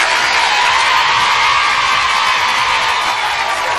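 A TV studio audience cheers and whoops in a loud, dense, continuous roar of many voices with applause mixed in, filling the room without a break.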